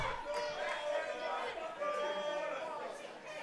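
Wrestling crowd at a live show in the Trinity Center, a dense rolling murmur of many voices with scattered shouts, steady and moderately loud throughout.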